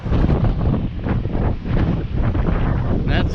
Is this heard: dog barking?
no